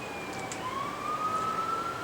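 A siren passes at a distance, a faint, steady wail whose pitch slides upward and then holds, alone over low background hiss.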